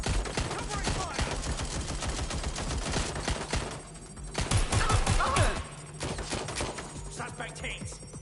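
Video game gunfire in Watch Dogs: Legion, rapid automatic bursts crackling almost continuously with a short lull, then a louder heavy volley, dense and close throughout.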